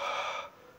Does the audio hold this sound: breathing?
yes